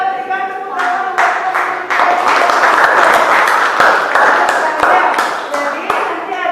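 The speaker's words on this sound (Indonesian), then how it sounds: "kita berikan tepuk tangan untuk" Students in a classroom applaud a group presentation. A teacher's voice comes first, then dense, loud, close clapping from many hands carries on steadily to the end.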